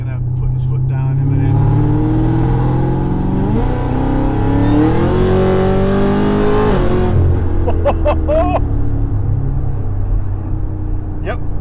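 A Chevrolet Camaro on an A road revs hard under acceleration, its deep engine note climbing through the gears before easing off, loud and close from inside the car, with voices talking over it.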